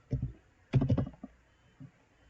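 Two short bursts of computer keyboard clatter, close and fairly quiet, with a softer tap near the end and silence between.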